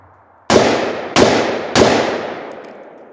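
AR-15 rifle fired with Tula ammunition: three loud, close shots spaced about half a second apart, each a hard crack with a long ringing decay, and no talking.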